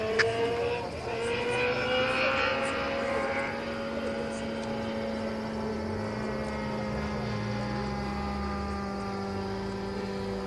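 A small radio-controlled model Cessna airplane's engine drones steadily at a distance, its pitch sliding up and down as it passes, over outdoor background noise in calm, windless conditions.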